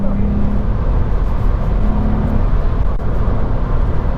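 A Volkswagen Up! GTI's engine drones steadily from inside the cabin, with a low hum and road rumble running throughout at a constant level.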